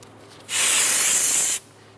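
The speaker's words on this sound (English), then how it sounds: "Using a brake parts cleaner, I'm going to spray a rag and go around and just wipe down the surface." A single aerosol burst of brake parts cleaner onto a rag while cleaning a 2007-2012 Nissan Altima valve cover area: a steady, loud, bright hiss lasting about a second, starting and stopping abruptly, alone with no talk.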